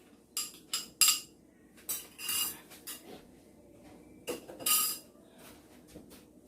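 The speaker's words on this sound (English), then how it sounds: "Let me get a spoon to really get all this out of here." A spoon scrapes and knocks against a bowl while banana cake batter is gathered out, giving a series of short clinking, scraping bursts with pauses between them, close and fairly quiet.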